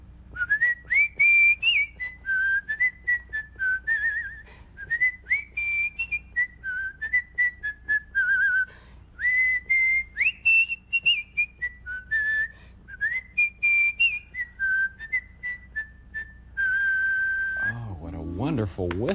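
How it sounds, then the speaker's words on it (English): A person whistles a lilting tune up close, clear melodic phrases rising and falling for most of the clip before a brief voice at the end. "Some whistling, huh?"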